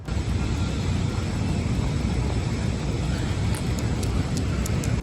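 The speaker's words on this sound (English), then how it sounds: "this China Airlines cargo area and a 747-400 pushing back" A China Airlines Cargo Boeing 747-400 freighter pushes back at Chicago O'Hare. A steady, broad roar of jet engines and airport noise fills the air evenly, with faint high-pitched whines near the end.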